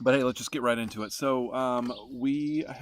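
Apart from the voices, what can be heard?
No everyday noise stands out behind the speech.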